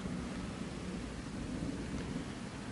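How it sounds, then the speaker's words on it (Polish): Continuous low rumble of distant thunder after a storm with a steady wash of rain, fairly faint and unbroken throughout. "Słuchajcie jeszcze głos piorunów."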